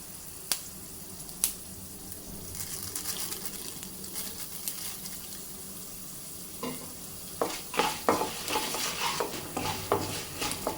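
Coriander seeds and spices dry-roast in a pan for curry leaf powder, giving soft scraping and rattling stir strokes with a faint sizzle, sparse at first and then a busier run of clicks and scrapes toward the end.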